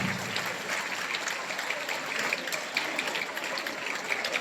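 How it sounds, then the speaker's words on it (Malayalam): Applause for prize-winning school students at a prize-giving ceremony, a continuous patter of many hands clapping in a hall, steady and moderately loud throughout. "എല്ലാവരും കൈയടിച്ച് പ്രോത്സാഹിപ്പിക്കേണ്ടതാണ്"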